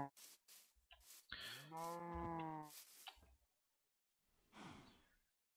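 Cows mooing in Minecraft, with a couple of short grunts followed by a long, clear low moo and a softer moo after a brief pause.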